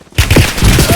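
Gunfire in a video game: a rapid burst of close, punchy shots cracks out in quick succession over about a second, loud and dense.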